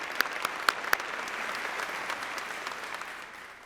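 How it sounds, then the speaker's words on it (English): Audience applause at the ATHENA Award ceremony, a steady, dense wash of clapping from a sizable crowd, with a few louder individual claps standing out near the start, sustained evenly throughout. "another round of applause for Aaron"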